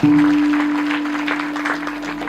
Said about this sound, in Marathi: एवढ्यासाठी जोरदार टाळ्या वाजवा